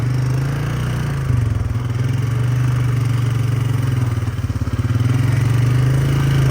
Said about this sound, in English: ATV, all-terrain vehicle, baby.